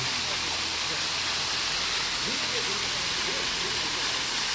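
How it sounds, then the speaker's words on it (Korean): A garden waterfall at a resort makes a steady broadband rush of falling water that fills the whole clip, loud and continuous, with faint voices in the background. "중간중간 이런 폭포가 엄청 많네"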